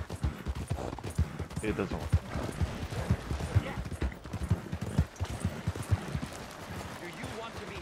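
Horse hooves clip-clop at a steady walking pace in Red Dead Redemption 2, the rhythmic thuds running throughout beneath a voice talking over the game.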